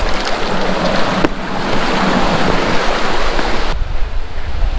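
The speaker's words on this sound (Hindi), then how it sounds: "ये सारा पानी बह कर के आता है करेरी लेक से और जाता है नीचे करेरी विलेज के पास से होता हुआ।" Mountain stream water from Kareri Lake rushes steadily downhill on a trek route, a loud continuous broadband roar with wind buffeting the microphone and no voices.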